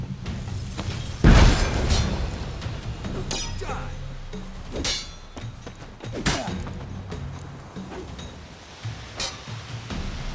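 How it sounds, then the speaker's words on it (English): A bomb explodes in The Witcher 3 as a single loud, close boom with crackling debris, followed by clinking, rumbling game sounds and occasional voices talking. "Throw a bomb."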